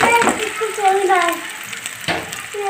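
Chopped onions hit hot ghee in a pan, setting off a steady broadband sizzle, with a fresh burst of crackling partway through. Someone talks over the frying.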